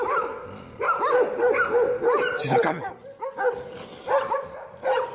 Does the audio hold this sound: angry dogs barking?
yes